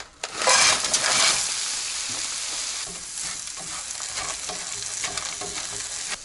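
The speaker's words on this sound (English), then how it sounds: "we are going to brown these veggies just a little bit" Vegetables brown in a skillet in garlic-infused stir-fry oil, a loud burst of sizzling at first that settles into a steady fry with scraping stirs, close up and without speech.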